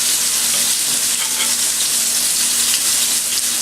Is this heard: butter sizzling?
yes